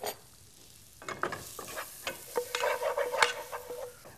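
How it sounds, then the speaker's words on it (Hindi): Garlic and onion are sautéed lightly for prawns, giving soft sizzling with a string of spoon-against-pan stirring clicks and scrapes, close and fairly quiet, with no talk. "लहसुन और प्याज एकदम हल्का सा सौते करना है, बिल्कुल रंग नहीं देना हमने।"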